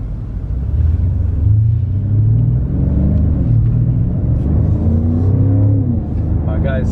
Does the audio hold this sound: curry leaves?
no